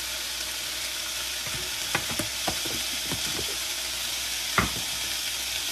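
Onion frying in ghee keeps up a steady hiss, broken by a handful of sharp spoon scrapes and taps as it is stirred.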